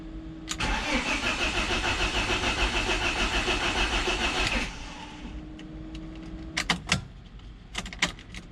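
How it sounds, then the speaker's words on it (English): A BMW Z3 engine cranks for about four seconds with a loud, rhythmic starter churn that fails to catch, then stops, leaving faint clicks and knocks afterward. "let's try the crank one more time."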